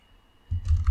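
A press of the F12 key on a computer keyboard, a short, close thump with a couple of clicks near the end after a moment of quiet.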